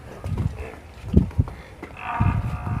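Buffaloes at a dairy farm low in deep, drawn-out calls, several moos close by over a short span, with no speech over them.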